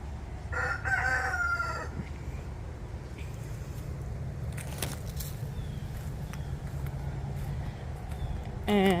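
In a backyard flock of home-hatched chickens, a rooster crows loudly once early on. Hens cluck softly under a constant outdoor background hum.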